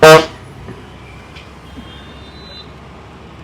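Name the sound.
auto-rickshaw horn honking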